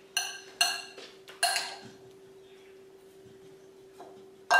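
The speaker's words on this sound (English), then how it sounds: "Give it a quick stir." Raw beet salad with mint and cumin gets a quick stir in a bowl, a few sharp clinks of a utensil against the dish, then near silence before one last knock.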